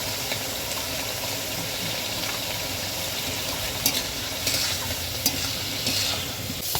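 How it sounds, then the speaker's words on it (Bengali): Eggplant pieces frying in a pan throw off a dense, continuous sizzle with occasional stirring scrapes and light taps of a utensil, loud and close throughout, no talk. "বেগুনগুলো ভেজে নেব।"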